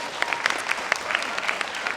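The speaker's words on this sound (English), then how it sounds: "So applaud for that." A theatre audience at a junior thespian showcase claps in a brief, steady burst of applause, close and fairly loud throughout.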